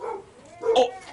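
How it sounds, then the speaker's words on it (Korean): A dog barking in a village, a couple of short yips heard faintly in the distance, mixed with a person's voice. "네, 멍멍이 소리만 들려요."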